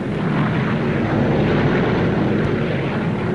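Berlin airlift transport planes roar over West Berlin at dawn, a loud, steady, unbroken propeller-engine drone with no voices.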